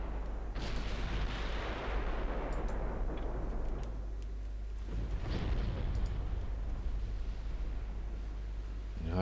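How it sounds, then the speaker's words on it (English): Naval cannon fire in the video game Ultimate Admiral Dreadnoughts: two heavy booming salvos, each rolling out into a long, decaying rumble over a constant low drone. "You cannot dodge my cannon fire."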